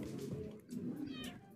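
A cartoon cat in the Tasty Planet Forever video game lets out a short, quiet meow over game background noise and faint mixed sound.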